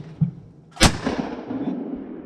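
A single loud shotgun blast at about 0.8 s while shooting clay targets, with a sharp crack followed by a rolling outdoor echo that fades slowly; a brief faint thump comes just before it.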